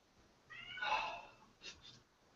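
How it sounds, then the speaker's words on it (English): A cat yowls loudly in the background with one long, wavering meow followed by two shorter, fainter calls in an otherwise quiet room. "our cat was yelling in the background"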